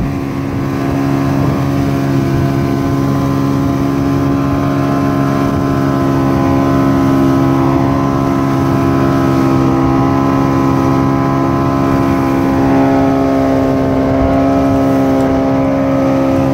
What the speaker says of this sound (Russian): едем домой. Тихий океан. Лодка. Лодка. Наша лодка.